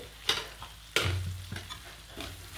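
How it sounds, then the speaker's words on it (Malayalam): Chili powder sizzles in hot oil while being stirred, giving a steady frying hiss with several crisp scraping strokes of a spoon across the pan, close and fairly quiet. "ഇത് നമ്മൾ എണ്ണയിലൊന്ന് മൂപ്പിച്ചെടുക്കാം"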